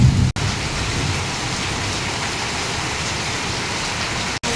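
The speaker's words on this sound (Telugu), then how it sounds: "ఏం వాన ఏమి లోకం బాబోయ్ బాబోయ్" Heavy rain falls on a house in a sudden downpour, a dense, steady hiss without a break and with no talk over it.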